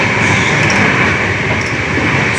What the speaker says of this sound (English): train is moving with a very high speed